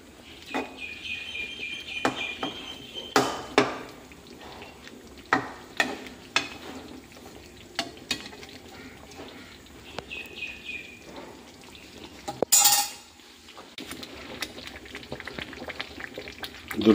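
A spoon stirs cooked food with ghee in a pot, making intermittent soft scrapes and clicks against the metal over a low bubbling simmer, with no talking.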